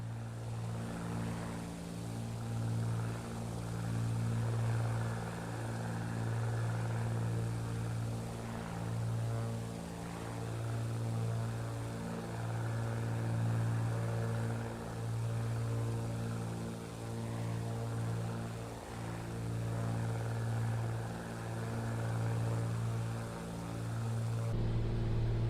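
A Beech Bonanza's piston engine and propeller in Microsoft Flight Simulator 2024 drone steadily for the whole stretch, a loud, even hum with a faint rhythmic pulse and no voices over it.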